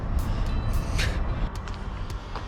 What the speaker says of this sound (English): I didn't even notice the truck noise until it turned off.